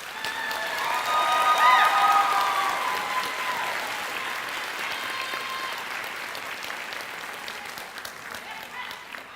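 A crowd at a high school graduation ceremony applauds steadily, swelling early and then holding as a broad, even wash of clapping that fades slightly near the end, with a faint cheer or tone in the hall.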